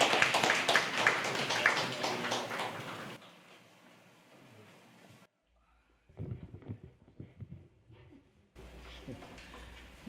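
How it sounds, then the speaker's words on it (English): Audience applause at a book launch fills the opening seconds as a dense, fairly loud patter, then dies away to a quiet room with scattered faint shuffles and knocks. "Let us give him a round of applause."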